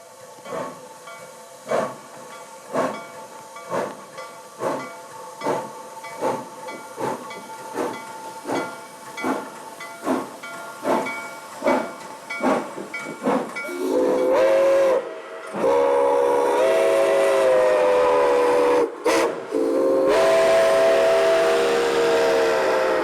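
A Nickel Plate 765 Berkshire steam locomotive pulling a freight train chuffs in steady, loud rhythmic exhaust beats that quicken, then a long piercing steam whistle blows in several sustained blasts.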